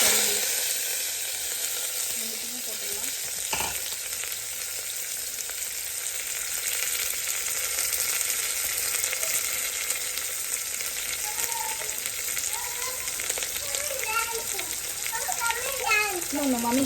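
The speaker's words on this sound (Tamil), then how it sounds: "நம்ம சாப் பண்ணி வச்சுருக்க ஆனியனை போட்டுடலாம்" Chopped onions sizzle and fry in a pan of hot oil for a spicy mutton curry, a steady loud crackle with occasional stirring. A small child and an adult talk over it.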